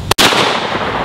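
A single loud Mossberg 930 SPX shotgun blast outdoors, a sharp crack followed by a broad rolling echo that decays over about a second, with no talk.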